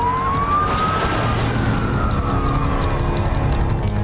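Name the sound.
airport emergency alert siren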